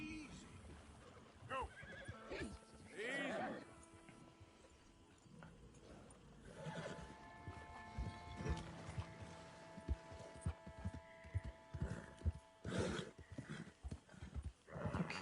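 A horse in a swamp in Red Dead Redemption II clip-clops along and gives several whinnies and snorts, with someone talking intermittently over the hoofbeats.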